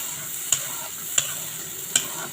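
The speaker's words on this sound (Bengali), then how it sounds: "বেটে রাখা টমেটোগুলো দিয়ে দিচ্ছি। ভালো করে কষিয়ে নেব।" Ground tomato paste fries in a pan with a steady, fairly loud sizzle while a spoon knocks against the pan three times in a slow, even rhythm.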